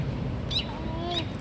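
Two brief, high bird chirps sound a moment apart over a low background hum.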